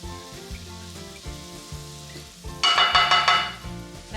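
Apple cider vinegar hits a hot pan of chorizo and potatoes, bursting into a loud, bright hiss that lasts about a second before easing, over quieter background tones.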